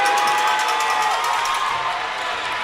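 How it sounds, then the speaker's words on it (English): A packed high school basketball gym crowd cheers and whoops after a three-pointer in a boys game between Ponte Vedra and Andrew Jackson, a loud, sustained burst of shouting that fades slightly toward the end. "The crowd's getting into it."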